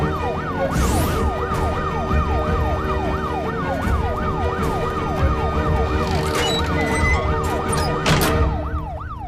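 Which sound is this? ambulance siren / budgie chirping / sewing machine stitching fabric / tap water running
ambulance siren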